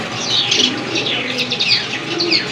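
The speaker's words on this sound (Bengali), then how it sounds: "লাল গিয়ারের কবুতর মাশাআল্লাহ, নাইরা কবুতর" Red-colored pigeons kept for sale make dense, continuous chirps and warbling calls at close range, busy and fairly loud throughout with no speech.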